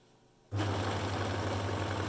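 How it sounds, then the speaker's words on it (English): An overlocker starts abruptly and runs in a steady, close mechanical hum with rapid needle chatter as it stitches a short seam along the top of a fabric face mask. "I'm just going to overlock a small section along the top"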